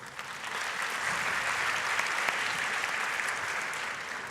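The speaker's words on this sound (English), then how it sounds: "I think all of you and the organizers deserve a round of applause" A conference audience in Jerusalem bursts into a round of applause for the organisers, swelling quickly into a dense, sustained clapping that holds steady before easing slightly.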